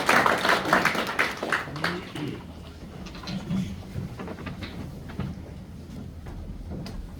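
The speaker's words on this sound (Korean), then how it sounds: "환영하는 큰 박수로 맞아주시면 고맙겠습니다" Applause and clapping from a church congregation at a New Year thanksgiving service, welcoming a pastor to the pulpit; a loud burst at first that thins into scattered claps and fades over several seconds.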